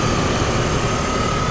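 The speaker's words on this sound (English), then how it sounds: "so you'll hear the air con going as well" A 2001 BMW E39 530i engine idles steadily with a low, even hum and its air conditioner whirring constantly alongside, no voices present.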